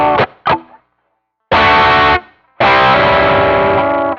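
An electric guitar plays a riff, with two short muted chord stabs, a pause, then two longer ringing, slightly gritty chords, close and loud with no voice.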